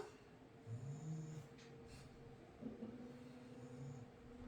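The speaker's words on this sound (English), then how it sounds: "You're snoring with your eyes open." Low, rumbling snores from a dog, a few drawn-out snorty breaths repeating slowly and quietly, close by in an otherwise calm room.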